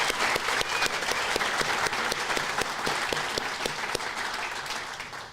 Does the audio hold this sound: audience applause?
yes